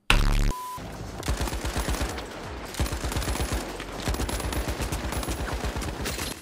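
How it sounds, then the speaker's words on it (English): A Lewis gun in the shooter game The Finals fires long sustained bursts of rapid automatic fire, loud and close, the rattling stream running almost continuously after a brief opening sound. "This guy has no recoil on that Louis gun."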